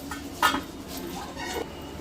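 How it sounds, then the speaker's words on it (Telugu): A metal lid lands on a cooking pot of village-style country chicken curry with a single sharp clink, followed by a lighter rattle. "మూత పెట్టేస్తున్నానండి."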